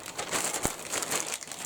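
Tissue paper wrapping crinkles close to the microphone in a continuous, rustling texture with a few sharper crackles, fairly soft, with no talking.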